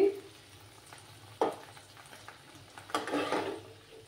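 Flat beans are stirred and scooped from a hot frying pan, a soft sizzle running under a few sharp scrapes and clinks of a spatula against the metal, close and fairly quiet.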